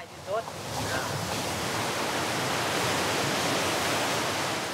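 Rushing water of the Mekong river cascades roars as a steady, loud broadband wash throughout, with a brief voice heard at the start.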